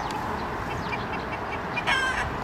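Chickens cluck at a weekend allotment farm, a steady faint clucking over outdoor background noise with a brief louder call near the end.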